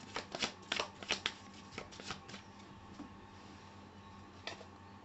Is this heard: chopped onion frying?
no